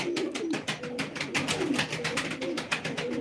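A male pigeon with yellow spots and a crested tail coos in repeated soft, throaty pulses, close and moderately quiet, with a steady rhythm over low background noise.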